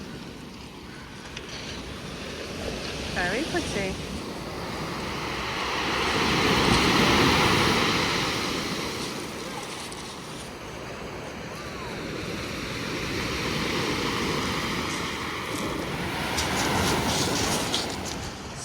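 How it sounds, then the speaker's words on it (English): Waves wash in over a pebble beach at Ladram Bay in Devon, a broad roar swelling and receding in slow surges. A voice speaks briefly under the surf. "The waves are crashing in."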